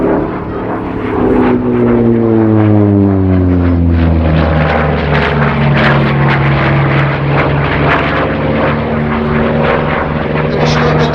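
A Buchon propeller fighter flies past at the Little Gransden Airshow with a loud, sustained engine drone. Its pitch slides down steadily as it passes and it stays strong throughout.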